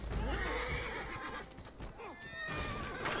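Horses gallop in a Victorian-era city in Assassin's Creed Syndicate, hooves clattering rapidly with a loud whinny rising above, while someone talks over the action.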